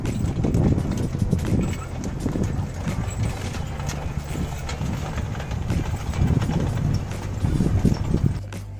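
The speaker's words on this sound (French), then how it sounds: "Une batterie de chevaux." Horses' hooves clip-clop in a stable at a Bordeaux wine estate, a steady uneven run of hoof falls on a hard floor with an animal shifting close by and a low rumble in the background.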